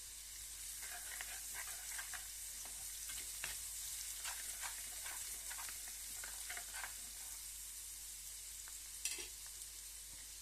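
Cumin and garlic paste fries in a pan for masala bhindi, giving a continuous faint hiss with soft scattered crackles throughout.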